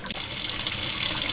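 Lukewarm water runs from a kitchen tap into a cup in a steady, close, continuous splashing stream, with no voices over it.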